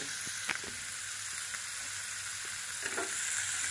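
Paneer pieces fry in a pan with a steady, loud hiss of hot oil, broken by a few sharp spatters and light stirring knocks, with no talking.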